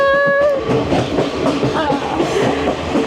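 A Sri Lankan passenger train from Ella to Colombo rumbles along with rhythmic clacking on the rails, opening with a brief whistle-like tone over the steady running noise.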